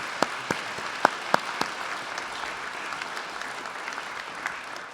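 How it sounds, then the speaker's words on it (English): Audience applause at a Veterans Day ceremony honoring Carmel Clay Schools, a few sharp, distinct claps up front settling into a soft, steady patter of clapping from a crowd. "a round of applause for CCS for the Purple Star designation"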